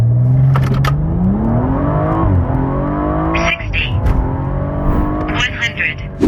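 A tuned BMW M135i F20 with a Stage 2 tune, 440 hp and 610 Nm, accelerates hard from a standstill toward 100 km/h. The engine note climbs through a rising rev sweep with a gear change partway through, close and loud, with talking over it.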